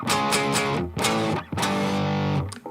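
A Gibson Flying V electric guitar played through distortion on its P90 neck pickup, a thick, fuzzy run of several strummed chords and sustained notes with short gaps between them.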